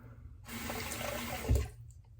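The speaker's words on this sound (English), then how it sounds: "I have sinks almost full of water and I'm still rinsing the blade." A razor blade is rinsed in a sink almost full of water: a burst of swishing, splashing water lasting over a second, with a louder slosh near the end, then quiet.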